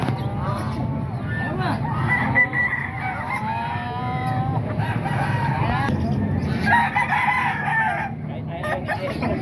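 Chickens and a rooster crow and cluck amid the bustle of a busy open-air market in Baliwag, Bulacan, with people talking nearby and repeated crowing rising over the crowd noise.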